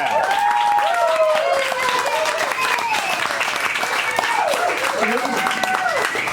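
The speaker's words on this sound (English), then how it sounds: "That's worth a round of applause." Wedding reception guests applauding during the toasts, a steady bed of clapping mixed with overlapping voices and cheering from the crowd throughout.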